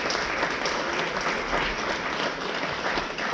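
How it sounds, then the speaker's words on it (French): Steady applause from a seated audience at a historical costume fair, honouring costumed presenters, a dense even patter of many hands clapping continuously without a break. "je vous demanderai de les applaudir"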